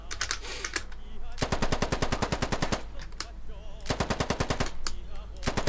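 Full-auto gunfire in the tactical shooter game Squad, several rapid bursts of evenly spaced shots, loud and close, separated by short pauses.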